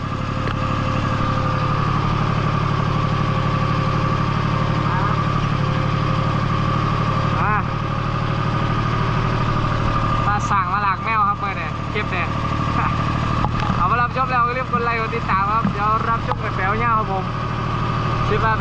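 A tractor engine runs at a steady, loud, throbbing drone while it pulls a pickup truck that slid off the road in the rain, with someone talking over it throughout.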